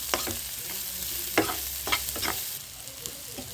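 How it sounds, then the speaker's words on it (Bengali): Chopped onions fry in hot oil with a steady sizzle, while a spatula scrapes and stirs through the pan in several distinct strokes partway through. "এবার আমি তেলের মধ্যে পেঁয়াজ কুচিগুলো দিয়ে দিলাম। কিছুক্ষণ নেড়ে চেড়ে ভালো করে ভেজে নেব।"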